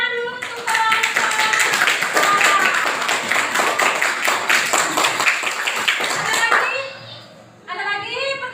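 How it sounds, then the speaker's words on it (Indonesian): Students in a classroom applauding a group, several seconds of dense, close clapping, followed by a teacher speaking. "Tepuk tangan dulu untuk kelompok."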